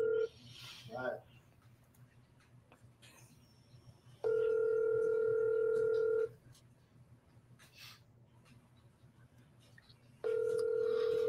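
Steady telephone ringback tones on an outgoing sales call, two long buzzing rings about two seconds each separated by a pause, loud and close, with faint background chatter between them.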